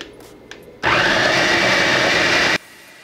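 A blender runs steadily at low speed for about two seconds while blending corn cream, a loud, even whirring that starts and stops abruptly, with quiet room sound before and after.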